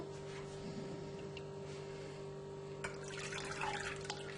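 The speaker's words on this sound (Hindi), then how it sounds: "अच्छे तरीके से छान लें इसको" Water trickles and splashes quietly as tamarind pulp is strained, a soft, faint liquid sound over a low steady hum that gets a little busier toward the end.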